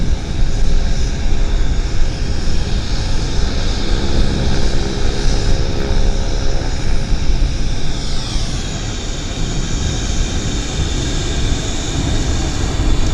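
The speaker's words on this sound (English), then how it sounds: "Air Canada Dreamliner taxiing out in the special scheme." An Air Canada Boeing 787 Dreamliner taxis out at Vancouver International Airport, a loud steady jet engine roar and whine with a slowly shifting tone, heard outdoors without speech.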